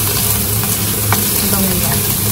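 Food fries in sesame oil while being stirred, a loud close sizzle with quick scraping strokes of a utensil against the pan, brief and continuous.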